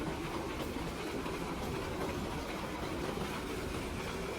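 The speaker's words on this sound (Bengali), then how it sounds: "একটু আগে যে ট্রেনটা দেখছেন, এটা হলো আমাদের বাড়ির পাশেই ট্রেনটা" A train rumbles past close to a house, a steady, fairly loud broadband roar with faint wheel clatter and no talking.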